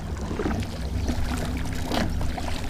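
A Minn Kota trolling motor with a weedless wedge propeller running at full throttle through medium swamp weeds, a steady low churning hum with splashing water and thrashing vegetation close by.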